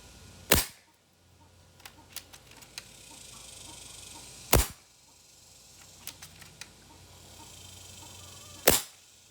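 A Beeman underlever air rifle fires into the ground three times at evenly spaced intervals, each shot a sharp, loud close crack with faint mechanical clicks of handling in between.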